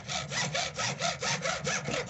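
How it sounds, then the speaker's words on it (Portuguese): A hand saw cuts through PVC pipe while a small garden well is being made, in rhythmic back-and-forth strokes, about nine rasping passes in two seconds, close and steady with no talking. "Vamos serrar o outro lado."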